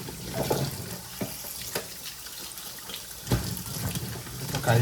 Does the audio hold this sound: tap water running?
yes